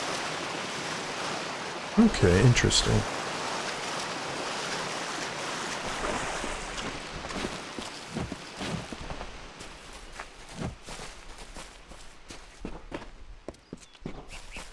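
In Kingdoms of Amalur Re-Reckoning, a character swims through water with a steady wash and splashing strokes over rushing surf-like ambience. A brief voice speaks near the start.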